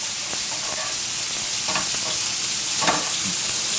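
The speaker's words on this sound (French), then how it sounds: "Puis là, on va laisser bien étuver. C'est aussi pour enlever l'eau du champignon." Onions and mushrooms sweating in a pan in a restaurant kitchen, a steady dense sizzle filling the whole stretch with a few faint scrapes of stirring, close and fairly loud, no talking.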